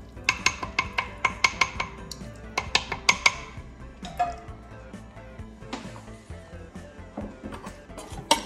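Dishes and cutlery clink sharply in a kitchen during chili making: a quick run of bright ceramic and metal knocks, then sparser, softer handling sounds with no talking.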